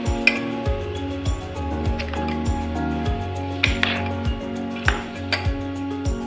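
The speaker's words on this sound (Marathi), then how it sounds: "तांदूळ हे छान असे 1-2 मिनिट असे परतून घ्यायचे" Rice tossed and stirred in a pan while sautéing for matar pulao, giving repeated close scraping and clinking of a spoon against the pan in a steady stirring rhythm, with no talk.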